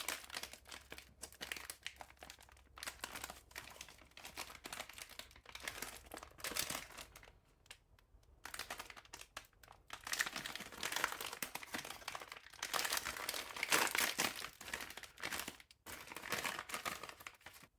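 The plastic wrapping of an MRE accessory pack is crinkled, handled and torn open close by. Loud irregular rustling comes in bursts, broken by short pauses.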